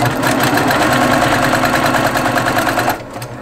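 A sewing machine stitches quilt fabric in a loud, fast, steady mechanical whir with rapid needle ticking, close by, running for about three seconds before slowing and stopping.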